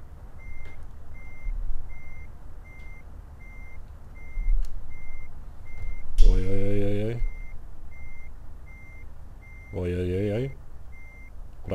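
A heavy truck in the Euro Truck Simulator game reverses while trying to park, its backup alarm beeping steadily and evenly under engine rumble, broken by two louder tonal blasts.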